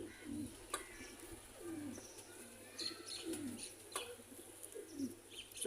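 Sialkoti pigeons coo in a loft, repeated soft rolling coos from nearby birds with occasional chirps and light rustles over a quiet background hum.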